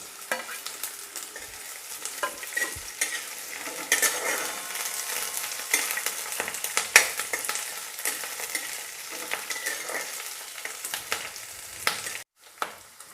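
Idli manchurian with capsicum sautés in a pan, giving a steady close sizzle broken by frequent stirring scrapes and clicks, with a brief drop to near silence near the end.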